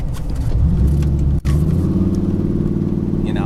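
A car drives and corners with a steady, solid engine rumble and road noise close by, one brief dropout midway, no talking.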